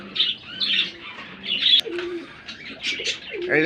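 Pigeons on a pigeon farm coo close by in short repeated phrases, mixed with sharper chirps and a brief flutter of wings, with no talking over them.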